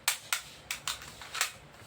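A full-metal C2A toy pistol fired repeatedly, about six sharp, loud cracks at irregular intervals, each ending in a brief decay, close up with no talk.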